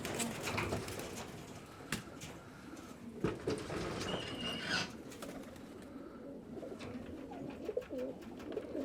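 Racing pigeons cooing at a loft in Bradford, soft repeated coos and murmurs close by, with occasional faint wing flutters and small knocks in the background.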